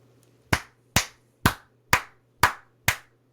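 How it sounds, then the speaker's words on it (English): A single person claps six times at a steady, unhurried pace during a high school football broadcast, each clap sharp and close, alone over a faint low hum. "I just have to clap"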